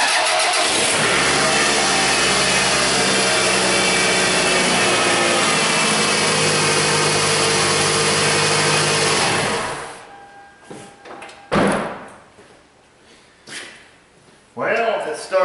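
A 2AZ-FE engine in a Toyota RAV4 under stripped head bolt repair cranks and fires, running loud and steady for about ten seconds before cutting off, followed by quieter workshop clatter and brief movement sounds.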